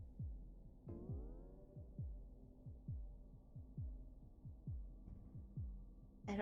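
A heartbeat pulses in the horror game A Monster's Insight, a slow, steady run of deep low thumps about one per second, muffled and close, under a low droning hum with a rising tonal swoop early on.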